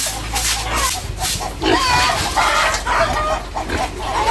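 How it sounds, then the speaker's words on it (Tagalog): Several chickens cluck and squawk close by in a noisy, busy stretch, with a low rumbling background and a bit of indistinct voice. "nagingay na rin ang aming mga alagang manok. Siguro ay may nangitlog."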